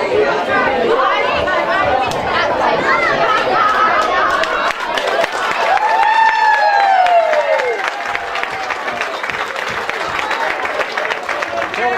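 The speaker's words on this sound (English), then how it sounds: "could we have a round of applause for Sharon, please?" A community awards evening crowd applauds and cheers for a presented trophy, a dense wash of clapping mixed with loud chatter and voices, sustained and close.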